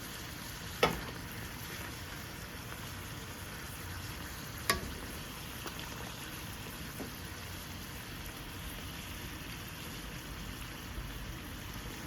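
Sweet coconut poori fries in hot oil with a steady, soft sizzle and bubbling, broken by a couple of sharp clicks as it is turned over.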